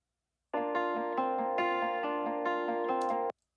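A dry acoustic loop from Output Arcade, without delay, plays as a bright, steady stream of plucked tones with a regular rhythm. It starts and stops cleanly and is alone, with no voices.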